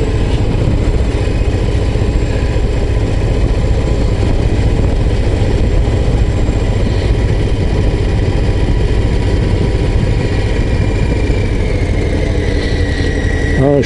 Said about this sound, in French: Là je suis au frein moteur.